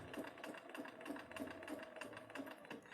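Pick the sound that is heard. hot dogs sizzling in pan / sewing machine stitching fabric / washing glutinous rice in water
sewing machine stitching fabric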